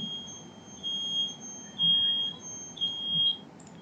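Fire alarm control panel (MCFA) in general alarm, a steady high electronic tone sounding throughout, with low hum swelling underneath at intervals.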